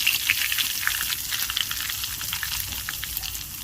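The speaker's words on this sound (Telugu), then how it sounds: "ఇప్పుడు అదే ప్యాన్లో మనం ఇంగు పోపుని పెట్టుకోవాలి" Asafoetida and tempering spices frying in a pan for gooseberry pickle, a steady close sizzle with light crackles and pops throughout, no voices.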